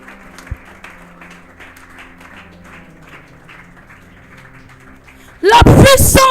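A church congregation bursts into loud cheering and applause near the end, after a quieter stretch of faint background sound and a few soft thumps.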